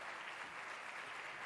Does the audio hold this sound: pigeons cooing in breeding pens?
no